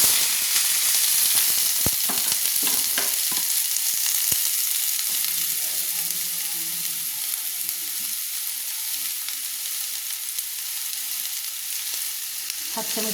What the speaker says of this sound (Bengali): আমি প্রথম আলুটাকে ভেজে নেব